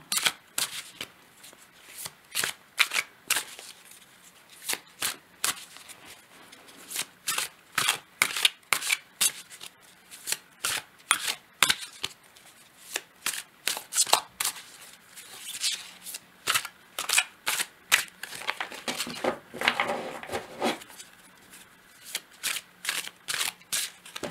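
Tarot cards shuffled for a reading: rapid, crisp riffling and slapping bursts repeat throughout, close and fairly loud, with brief pauses between runs of shuffling.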